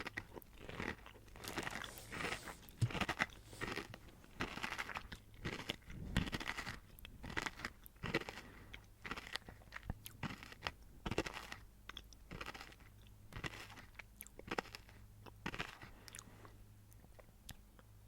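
Close, crisp crunching and chewing of kohakutou crystal candy, a gold-trimmed, cotton-candy-flavored Japanese sweet, with irregular bites and wet mastication that repeat throughout, no speech.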